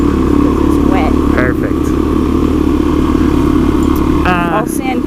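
A dirt motorcycle engine revs on the Lockhart Basin trail in Moab with a close, steady droning note and a few brief rises in pitch. A voice speaks briefly over it.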